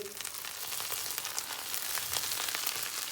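Hot butter with burnt mint is poured over rice and sizzles loudly, a dense steady crackle and hiss with small pops that carries on without pause and with no talking.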